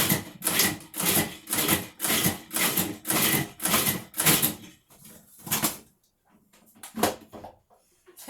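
A food processor pulses cacao nibs into cookie dough in a steady run of about eight short bursts, then pauses and gives a few more scattered pulses, loud and close with no talk.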